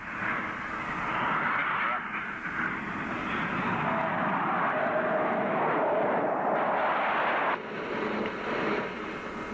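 A Cold War era US military jet on landing approach with gear down, a continuous loud roaring rumble of jet engines holding steady for several seconds with slight dips.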